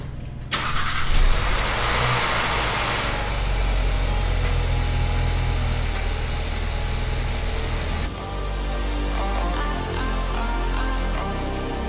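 A car engine cranks and catches, revs briefly, then settles into a steady idle nearby, with a shift in tone partway through; the car has an EPC warning light and a fuel pressure regulator control circuit fault.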